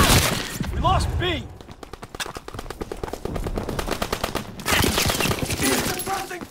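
Gunfire in Call of Duty WWII, a sustained machine-gun burst of fast, evenly spaced shots firing loud and close, framed by shouted voices and heavier battle noise at the start and end.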